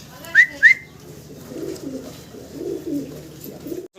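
Two short, bright whistled bird calls sound close together near the start, followed by soft low cooing murmurs of fancy pigeons against a quiet background.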